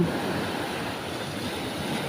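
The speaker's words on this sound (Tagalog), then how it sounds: "tingnan niyo mga bro ang alon" Big sea waves churn and rush in a continuous broadband roar, loud and close, with wind noise mixed in.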